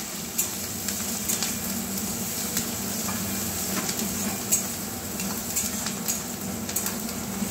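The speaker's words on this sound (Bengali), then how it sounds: "এরপর দিয়ে দিচ্ছি কুচনো পেঁয়াজ, পেঁয়াজটা একটু ভেজে নেব।" Chopped onion frying in oil with a dry red chilli and a bay leaf for a Bengali fish-head ridge gourd dish, a dense continuous sizzle with light spatters and faint utensil scrapes throughout, no talking.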